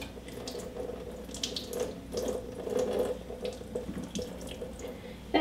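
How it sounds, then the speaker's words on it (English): Carrots with skins and ends still on are rinsed under a running kitchen tap, a steady hiss of water splashing into the sink with small shifting spatters, close and moderately quiet with no talking. "So all I'm going to do is rinse them, get any bits of dirt off there."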